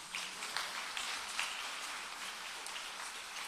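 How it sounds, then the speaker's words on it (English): Audience applause at a nursing school pinning ceremony, steady crowd clapping in a large hall, fairly faint and continuous throughout. "Round of applause."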